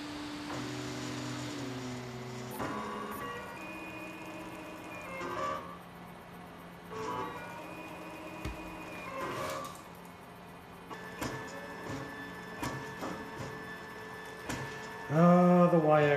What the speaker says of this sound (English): first print on the Autocrafter.